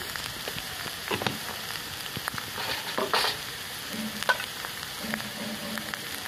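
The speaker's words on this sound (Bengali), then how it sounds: "ভালো করে নেড়ে নেব।" Ground bean paste with turmeric and salt being stirred in a pan, soft sizzling and frying with occasional scraping knocks of the spoon, fairly quiet and close, no talking.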